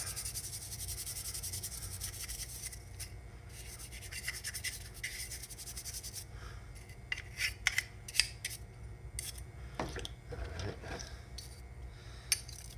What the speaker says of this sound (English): Brush it off really good everywhere.